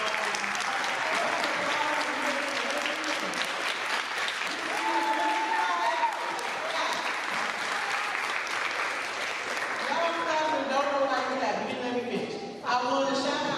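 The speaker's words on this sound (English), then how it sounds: "Once again, I want to give a round of applause to our ministers" A sustained, loud round of applause for ministers at a school gathering, with cheers and many voices talking and shouting throughout, easing slightly near the end.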